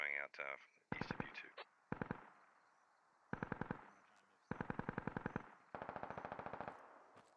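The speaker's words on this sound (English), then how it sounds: "Ooh, an HMG taking shots." Heavy machine gun fire in a military combat video game comes in several rapid bursts, each a loud string of sharp cracks with short gaps between them, and a voice talks over parts of it.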